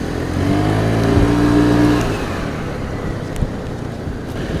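A Scomadi 200 scooter engine revs up hard as it accelerates, a loud, close rising drone that peaks and then falls away into a rougher, lower rumble.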